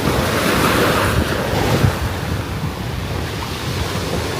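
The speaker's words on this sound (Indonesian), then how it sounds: "cuma gara-gara ada ombak aja" Sea waves wash ashore at an island beach in the Thousand Islands off Jakarta (Pulau Cipir, Onrust, Untung Jawa), a loud continuous surf roar with heavy wind buffeting the microphone.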